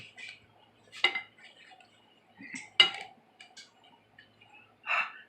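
Apple cake batter is mixed in a bowl, heard as faint, scattered clinks and scrapes of a utensil against the bowl with long quiet gaps between strokes.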